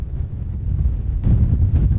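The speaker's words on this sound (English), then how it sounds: "It is so windy and cold" Strong gusts of wind buffet the microphone at a cold, exposed riverside spot awaiting a tidal bore, a low continuous roar that swells louder about halfway through and stays heavy, with no voices.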